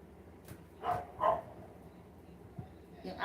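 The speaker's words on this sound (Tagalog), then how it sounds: "yung aso namin, matapang lang sa kapwa aso" A dog barks a few times in short bursts, moderately close and fairly loud, with a faint voice in the background and quiet gaps between barks.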